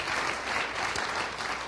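A church congregation applauding in praise during a Spanish-language sermon, a dense, steady burst of many hands clapping together at moderate distance, with no speech over it.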